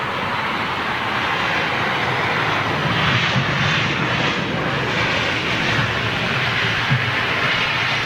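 Aircraft engines powering up on a fixed-wing airplane, a loud, steady roar with a broad rushing hiss that holds throughout.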